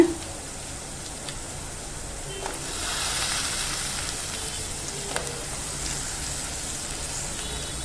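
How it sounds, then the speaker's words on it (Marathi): Raw banana pieces sautéing in hot oil with turmeric, giving a steady soft sizzle and hiss with a few faint clicks, quiet and close throughout. "आता आपण केळी असे थोडी परतून घेऊया"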